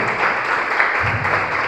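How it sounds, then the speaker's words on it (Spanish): A church congregation applauding, a dense, steady burst of many hands clapping together, loud and continuous throughout. "Dale un aplauso al Señor, levanta una ofrenda de aplausos para Él"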